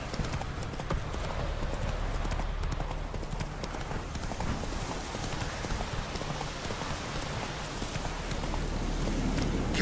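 Roach, the horse in The Witcher 3, gallops with a steady, close clip-clop of hooves under a constant wash of rain hiss, the rhythm running unbroken through the whole stretch.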